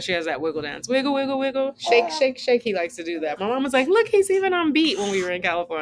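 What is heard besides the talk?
None of the usual background noises is heard.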